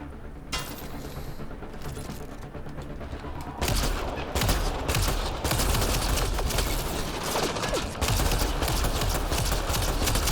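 Rapid sustained gunfire from a weapon in the video game Mass Effect: Andromeda, dense crackling bursts that run almost continuously and grow louder partway through, with no talking over them.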